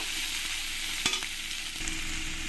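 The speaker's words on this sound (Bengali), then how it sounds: "পেঁয়াজগুলো আমি একসঙ্গে একটু লাল লাল করে ভেজে নেব" Chopped onion and garlic sizzle in a pan with a steady crackle, broken by a sharp scrape of a spatula.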